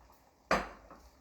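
Dry millet grains poured into a pot of boiling water on a stove, a single sudden clattering rush that fades over a fraction of a second, close and fairly loud, followed by a faint second rattle, with no talk.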